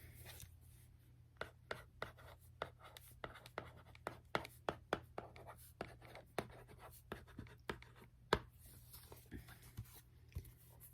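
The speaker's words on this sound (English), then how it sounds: "I'm going to write a sentence, and I would like for you to try and read the sentence out loud" A pen scratches out a handwritten sentence close up, quick rhythmic strokes and taps across paper over a low steady hum, in an intimate, quiet setting.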